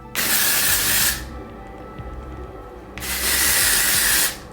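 Dry shampoo is sprayed from a can into hair at night, in two separate hissing bursts of about a second each, close and fairly loud, with a quiet gap between them.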